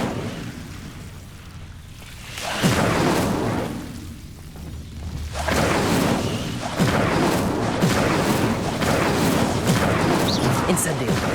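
Incendio fire spell cast repeatedly in the Hogwarts Legacy video game against Devil's Snare, giving loud whooshing, crackling bursts that swell and hold after a quieter start, with game speech mixed in.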